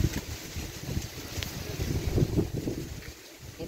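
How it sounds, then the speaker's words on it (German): Wind rising ahead of Hurricane Beryl in Jamaica, a steady, fairly loud rush with low rumbling gusts and buffeting on the microphone, continuous throughout with no talking. "Jetzt kommt ein bisschen Wind hier auf."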